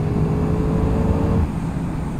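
A 2022 Yamaha MT10 motorcycle engine accelerating on a road, a loud steady drone that eases off about halfway through.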